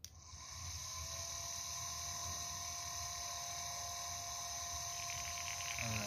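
Electrohydraulic brake booster pump on a Toyota Prado switched on, a steady whirring motor hum with a high tonal whine that starts abruptly and holds level for several seconds, fairly close, no speech.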